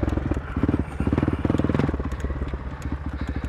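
Honda CRF450L motorcycle engine thumping at low revs while the rider slows with the back brake on a loose, rocky trail, a steady pulsing putter close by with some clatter of stones.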